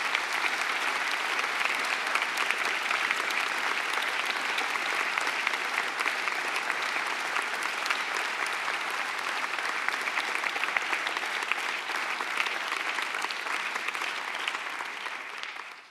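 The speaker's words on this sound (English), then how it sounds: "Please give me a round of applause to him." A large audience at an award ceremony in Bonn applauds in a dense, steady roar of clapping that holds evenly for the full stretch before tapering off at the very end.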